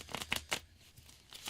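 Tarot cards are shuffled by hand in several quick riffling bursts, close and quiet, separated by short pauses.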